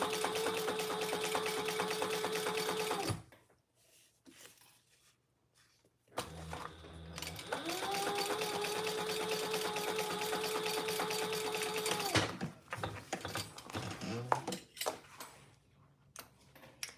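Sewing machine stitching a trifold wallet, running in steady continuous bursts: a long run, a pause, then another long whirring stretch, followed by quieter handling noises, close and clear.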